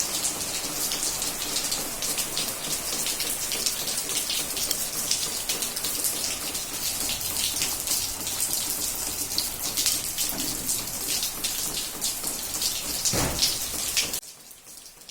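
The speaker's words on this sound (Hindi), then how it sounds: "सुबह 7 बजे से बारिश स्टार्ट हुई है, अभी तकरीबन 1 बजे का टाइम है और बारिश जो है लगातार बरसती ही जा रही है" Steady, continuous rain pours down in Karachi, a dense even hiss of drops hitting surfaces close by, running unbroken and loud until it cuts off abruptly near the end.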